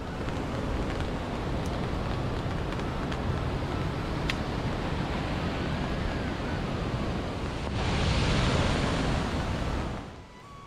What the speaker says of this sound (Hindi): अब पानी का बहाव तेज हो गया है